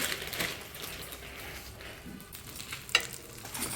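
Bread toasting lightly in a hot pan, a steady soft sizzle running throughout, with one sharp clink partway through.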